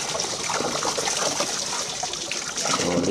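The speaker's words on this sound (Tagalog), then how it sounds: "Ang tubig pala dito ay continuous yan. Dire-diretso yan. Galing sa bundok yan." The Lisap River in Bongabong, Oriental Mindoro, fed from the mountains, flows in a steady, close trickle and gush of water that continues without a break and with no voices.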